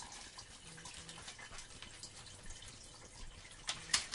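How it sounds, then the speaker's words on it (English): Filtered water runs into a jar of soaking seeds in a kitchen, a quiet steady splashing trickle with faint drips that grows a little louder near the end. "So I'm going to run filtered water in there."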